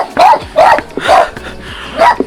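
A puppy met on the Path of the Gods hike toward Positano on the Amalfi Coast barks four times close by, sharp evenly spaced yaps.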